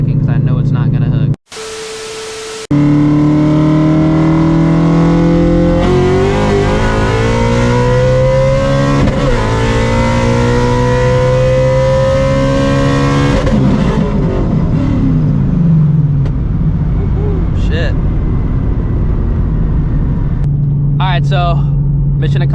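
A 900-horsepower Ford Shelby GT350 pulls hard in third gear, its engine note climbing loud and close through a long sustained rev, then fading into rumbling coast with a voice speaking near the end.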